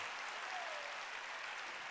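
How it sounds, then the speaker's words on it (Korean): A church congregation applauds in steady, dense clapping that fills the space evenly from start to finish with no pause. "박수 치세요"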